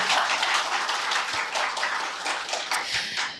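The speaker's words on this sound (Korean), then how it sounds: "그럼 큰 박수로 작가님 모셔보도록 하겠습니다." Listeners at a book talk break into sustained applause to welcome the author, a dense, even patter of many hands for a few seconds, moderately loud with no speech on top.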